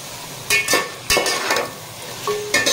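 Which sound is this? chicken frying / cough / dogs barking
chicken frying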